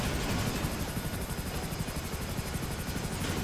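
A GTA 5 helicopter, underwater in a roleplay game, gives a dense, constant rotor thrum and engine roar, loud and close for the whole stretch, with no talking.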